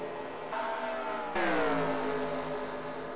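Several race cars speed around Atlanta Motor Speedway, their engines rising and falling in pitch as they pass close by, with a louder car sweeping through partway in a constant, layered roar.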